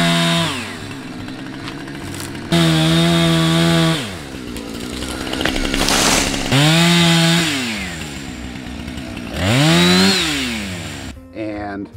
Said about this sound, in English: you saw me using a chainsaw.